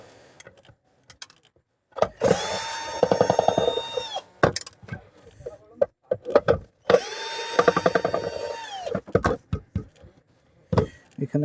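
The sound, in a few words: unscrewing nuts on a mixer grinder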